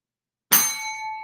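A single bright notification bell ding strikes cleanly out of silence and rings on with a shimmering, slowly fading metallic tone.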